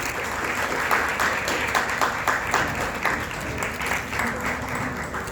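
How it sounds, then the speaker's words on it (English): Guests at the launch of a Montessori teacher training program give a round of applause, a steady, moderately loud burst of clapping from a gathered crowd that carries on throughout. "Can we have a round of applause, please?"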